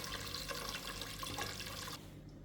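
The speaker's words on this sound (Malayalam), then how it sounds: "ഇനി ആവശ്യത്തിന് വെള്ളം ഇതിലേക്ക് ഒഴിക്കുക" Water pours steadily into a Tefal pressure cooker for about two seconds before cutting off, a close, continuous splashing rush as the pot is filled for cooking brown matta rice.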